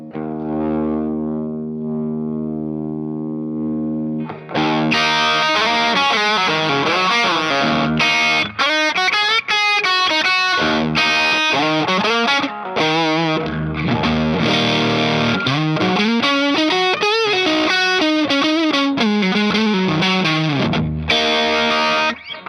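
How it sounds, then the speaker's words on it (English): An electric guitar, a Les Paul, plays through an overdrive pedal, starting with a sustained clean-ish chord, then gritty distorted riffs and bends, loud and continuous. "it's one of my favorite overdrive pedals"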